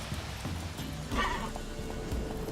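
A horse in The Witcher 3 clip-clops along at a trot, its hooves steady and close, with a short whinny rising in the middle; all quiet and low in level.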